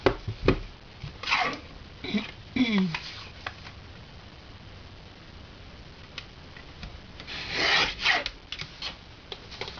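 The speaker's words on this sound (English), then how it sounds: "So get the trimmer, we'll just trim that off." A paper trimmer slices off excess paper for a handmade gift box, a few short scraping rasps and ticks close by, interspersed with quieter handling noises and a voice talking.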